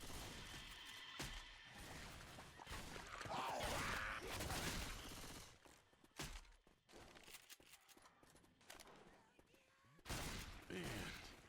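Gunfire in a multiplayer shooter tournament match comes in bursts and scattered shots amid clanks and impacts, irregular and fairly loud, with voices talking over parts of it.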